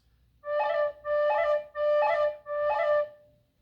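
A tin whistle plays four quick cran ornaments in a steady rhythm, each a bright held pitch broken by rapid flicks, close and clear with no talking.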